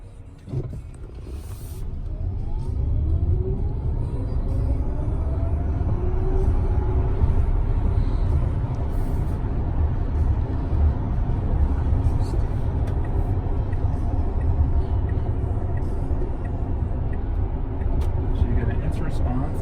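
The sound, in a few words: 2019 Tesla Model X electric car accelerating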